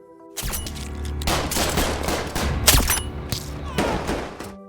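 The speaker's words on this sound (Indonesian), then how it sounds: "tembakan Santo yang ia lepaskan dari dalam gerbong kereta berhasil melumpuhkan 2 orang gangster" A rapid burst of loud gunshots fired from inside a train carriage, several blasts in quick succession with sharp cracks and booming echoes, close and intense.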